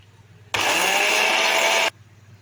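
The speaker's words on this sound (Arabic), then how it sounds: "نسمي بسم الله ونشغل الخلاط" An electric blender beating eggs for cake batter switches on and roars loudly for about a second and a half, then cuts off abruptly, close by with no talking.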